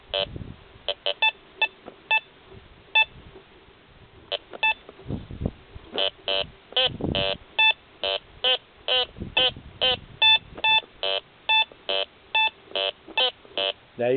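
A Eurotek Pro metal detector gives a run of short, evenly pitched electronic beeps while sweeping around an iron-masked target, the tones sparse at first then coming in quick rhythmic clusters, fairly close and clear over low rustling.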